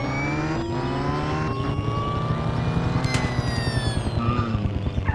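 A car driven in the video game Dude Theft Wars hums steadily with a rising engine whine and a rhythmic rumble as it speeds along, loud and continuous with no talk.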